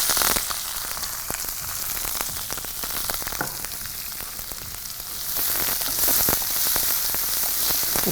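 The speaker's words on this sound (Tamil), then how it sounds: "சின்ன வெங்காயம் வதங்குற போது" Small shallots with curry leaves sauté in a hot pan, a dense, steady sizzle and crackle that stays close and loud, swelling slightly near the end.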